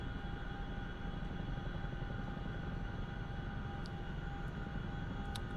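CH-47F Chinook tandem-rotor helicopter in DCS, started up and taxiing: a steady, dense engine and rotor drone with constant whine tones, filling the whole stretch without pause, a few faint ticks, no speech.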